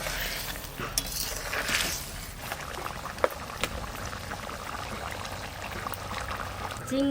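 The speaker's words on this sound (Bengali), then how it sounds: "এবার জল দেবো।" Water poured into a pan of simmering spiced curry for rithe fish, the oil already separating from the masala: a steady splashing pour with bubbling and a few light clinks of utensils against the pan.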